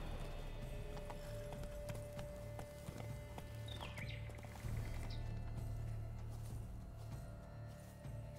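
Horse hooves clip-clop at a walking pace in the video game The Witcher 3: Blood and Wine, a steady close rhythm of strikes with faint birdsong in the background.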